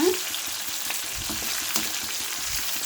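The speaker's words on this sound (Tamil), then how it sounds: "உருளைக்கிழங்க ஃப்ரை பண்ணி வச்சுக்கலாங்க" Steady oil sizzle and crackle of potatoes frying, close and continuous, with faint stirring scrapes.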